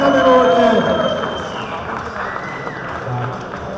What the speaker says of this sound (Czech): ale zatleskáme hodně